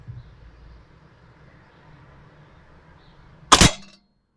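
A single loud shotgun blast firing a Swagger slug rings out at a range, sharp and alone after several seconds of quiet outdoor background.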